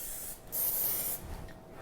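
Cooking spray hisses onto a heated waffle iron before Belgian Liège waffle dough goes in, a close, bright spray in two quick bursts lasting about two seconds.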